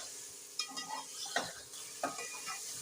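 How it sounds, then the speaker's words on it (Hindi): Meat frying with ginger-garlic paste in a pot for turnip gosht, a steady sizzle broken by several close scraping stirs of a spoon against the metal. "अब इसको अच्छी तरह से हम लहसुन अदरक के साथ फ्राई करेंगे।"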